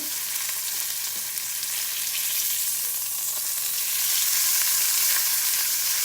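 Bacon-wrapped salmon sizzles steadily in a hot pan, a dense crackling hiss that swells slightly louder toward the end.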